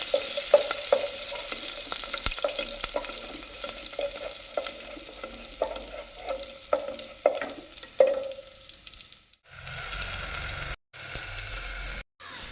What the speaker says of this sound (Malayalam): ആദ്യം നമ്മൾ ഗാർലിക്കാണ് ഇതിലേക്ക് ഇട്ട് കൊടുക്കുന്നത്. ഗാർലിക്ക് നന്നായിട്ട് സോട്ട് ചെയ്യാം.